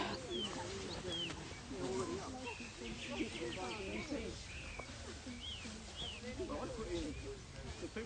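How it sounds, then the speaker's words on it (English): A thrush sings in repeated bright phrases from a nearby hedge while several people chat steadily in the background. "There's a lovely thrush singing in the hedge."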